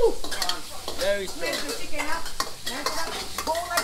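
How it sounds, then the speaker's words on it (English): Peppery food sizzles in a wok during a stir-fry cooking class, with a spatula scraping and stirring in busy bursts while a person speaks briefly over the crackle. "I want to hear sizzling sound."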